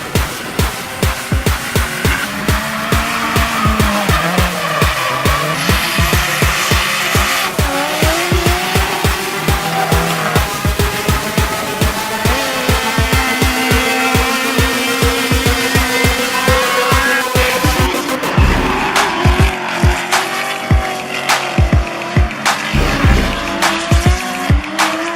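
Drift cars at a large drift event in Eastern Canada, loud engines revving in rapid bursts with long tire squeals and skidding that rise and fall, sustained and close throughout.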